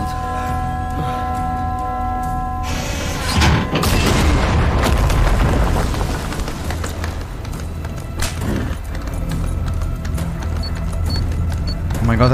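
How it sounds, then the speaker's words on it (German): A loud bomb blast booms in Far Cry 6, a deep rumbling explosion that erupts partway through and rolls on among gameplay sounds and music, with a second thump later. "Hat er sich jetzt einfach in die Luft gesprengt?"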